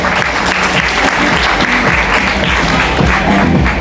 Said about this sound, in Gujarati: આપણા પ્રમુખશ્રી વાડોલિયા લાલજીભાઈ નારાયણભાઈ માટે એકવાર જોરદાર તાળીઓ થઈ જાય